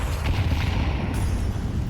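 Grenade explosions in the Counter-Strike video game during a PGL Astana 2025 esports match, heard as a string of rumbling booms that blend into one continuous, moderately loud roar.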